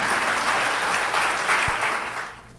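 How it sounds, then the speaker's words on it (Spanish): A church congregation claps together in sustained applause during a Spanish-language Sunday sermon, a dense steady wash of hands that fades slightly toward the end. "Dele fuerte ese aplauso al Señor"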